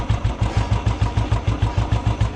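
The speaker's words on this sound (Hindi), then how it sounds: "अब इंजन की नॉइज़ सुनो" Old Royal Enfield Bullet Electra 350 motorcycle engine idling after a start, an even, loud, close thump-thump beat of low pulses, steady and unbroken, with no voices.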